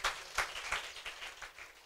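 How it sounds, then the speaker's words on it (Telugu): A church congregation claps during a sermon, a quiet, uneven patter of hands with a few stronger bursts, heard alone at a moderate distance. "చప్పట్లు కూడా దేవుని మహింపరచాలి."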